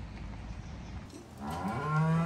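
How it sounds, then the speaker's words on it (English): Cattle moo loudly and close while being loaded onto a trailer, a long drawn-out call rising over low background rumble. "Cows were easy to get up on the trailer."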